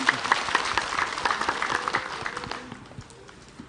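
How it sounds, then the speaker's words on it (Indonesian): Applause from the audience at an Islamic religious talk, given for the preacher Ustadz Abi Maki. Many hands clap in a steady patter that slowly thins and fades toward the end. "Tepuk tangan sekali lagi buat Ustadz Abi Maki."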